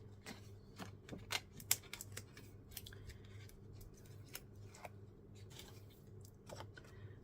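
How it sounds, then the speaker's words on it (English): Scissors snipping through card paper in a papercraft session, a run of quick crisp cuts in irregular clusters, close and fairly quiet over a faint low hum. "So I'm going to have to cut it off as well."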